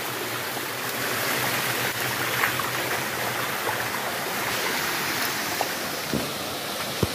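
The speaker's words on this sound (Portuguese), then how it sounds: "Uma outra queda d'água aqui" Stream water rushing over a small waterfall at a cascade in Bom Jardim, a steady, dense broadband wash that stays even throughout, with a few faint knocks near the end.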